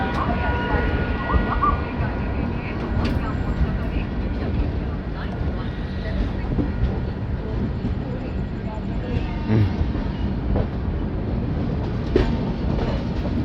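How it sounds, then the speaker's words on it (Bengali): An express train pulls out of Kharagpur station, heard from inside a coach as a steady rolling rumble with faint clicks on the rails, while people talk quietly in the background. "খড়গপুর থেকেও ট্রেন ছেড়ে বেরিয়ে যাচ্ছে"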